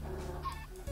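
A Minecraft chicken on the Hypixel server clucks in short game-audio bursts over a steady low background hum, with no talking.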